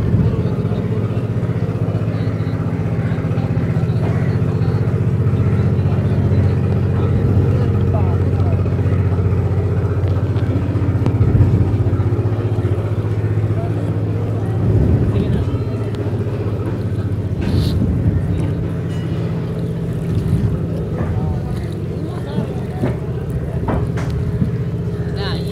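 A motorboat engine drones steadily on the Padma river near Munshiganj, a loud, continuous low rumble heard up close throughout, with wind and occasional splashes mixed in.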